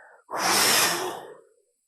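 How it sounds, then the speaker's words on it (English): A single long, breathy exhale during a seated yoga breathing exercise, loud and close, swelling quickly and then fading out over about a second, with no talking. "Exhale."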